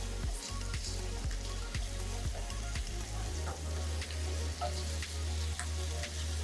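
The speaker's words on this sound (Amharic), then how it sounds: "ዘይታችን ትንሽ ጋል እንዳለ እንደምታዩት ድምፁንም ትሰሙታላችሁ።" Diced chicken sizzling and crackling in hot oil in a heated frying pan, a steady close fry with scattered pops and a low hum underneath.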